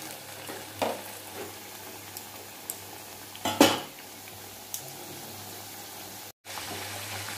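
Kachori deep-frying in a pan gives a low, steady sizzle under sporadic metallic clinks and clatters of utensils against the cookware, with one louder clatter midway and a brief dropout near the end.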